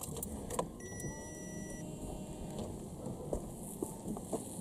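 The rear wiper motor of a 2.0T Audi A3 8P running with the ignition on, a faint mechanical whirr and brief clicks close by, amid soft background rustling and no talk.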